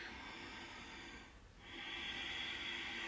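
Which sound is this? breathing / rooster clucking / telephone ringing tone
breathing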